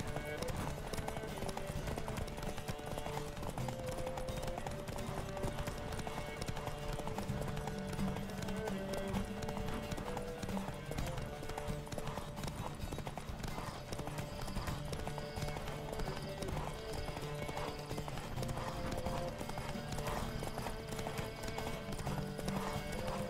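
A horse galloping in The Witcher 3, a steady rapid hoofbeat rhythm running throughout under game music and ambient sound, fairly quiet.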